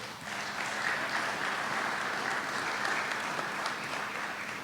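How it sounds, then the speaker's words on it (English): Sustained audience applause fills a room at a Kentucky bill signing on a bipartisan measure partially banning no-knock warrants, steady and dense from start to finish with no voices over it. "Let's give him another applause."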